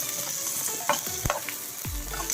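Green chillies frying in a pan with oil and cumin, a steady close sizzle broken by stirring scrapes and clinks from a spoon, with no speech.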